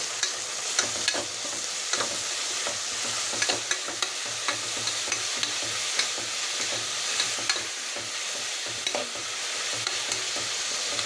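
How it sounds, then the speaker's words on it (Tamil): Onions sauté in oil inside a pressure cooker, making a continuous moderate sizzle broken by light scraping and stirring clicks at irregular intervals, heard up close with no talking. "இதில் வெங்காயம் போட்டுக்கலாம் நல்லா வதக்கி விடலாம்"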